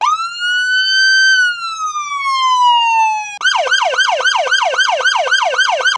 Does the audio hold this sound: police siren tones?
yes